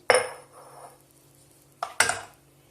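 A couple of bursts of ground almonds tipped into a metal saucepan, with faint clinks from the pot; brief pauses between the pours.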